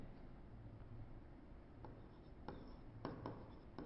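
Chalk or marker scratching out a number on a classroom board, a few short faint strokes in quick bursts over a quiet room hum, with no voice.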